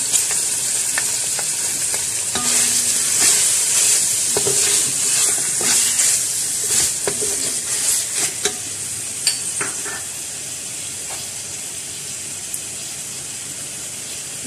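Fried onions stirred into beef browning in oil in a pot for pyaz gosht, a steady close sizzle with repeated scraping and clanking stir strokes throughout, alone without talk.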